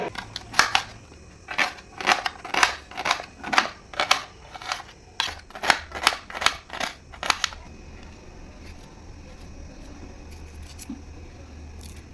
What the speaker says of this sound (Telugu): ఒక మూడు ఉల్లిగడ్డలు తీసుకొని కట్ చేసుకుందాం